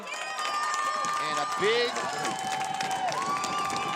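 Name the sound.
crowd applause at a boys lacrosse game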